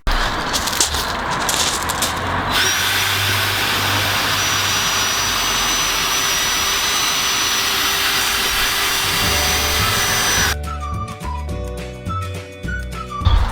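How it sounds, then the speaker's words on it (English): A battery-operated drill runs steadily for over ten seconds while sanding a Lexus IS 250 headlight, a loud continuous whirring grind with a scuffing rasp, its pitch and load shifting near the end. "I'm using the battery operated drill today. So we're just going to apply and do a sanding motion around the headlight"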